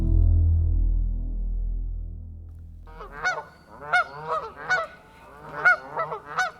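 After a low droning hum fades, Canada geese honk repeatedly, several loud nasal calls in an uneven series, fairly close.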